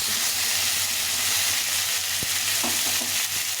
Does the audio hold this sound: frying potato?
yes